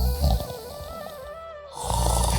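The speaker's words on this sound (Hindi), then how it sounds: "खर्राटे लेता हुआ सो जाता है।" A cartoon man snores while asleep, giving a long, rasping nasal snore that swells, fades briefly, then starts again, close and alone.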